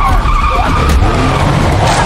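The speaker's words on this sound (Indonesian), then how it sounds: "bikin mobil oleng sampai menabrak pepohonan" A car swerves and skids toward trees, a loud close tyre screech over a roaring engine rumble, sustained for about two seconds without a break.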